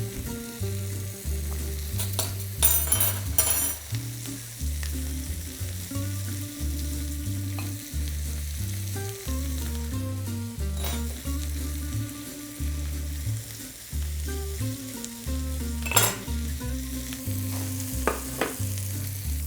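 Halved plums fry in olive oil in a pan, a continuous close sizzle with occasional crackles and stirring scrapes over a low steady background hum.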